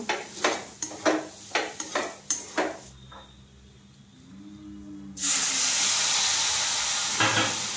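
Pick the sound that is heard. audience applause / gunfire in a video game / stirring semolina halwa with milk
stirring semolina halwa with milk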